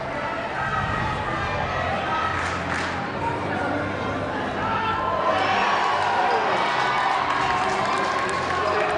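A crowd cheers on the South African players at a World Indoor Cricket Federation M40 gold final against Australia, a steady indoor wash of voices and noise beneath ongoing commentary.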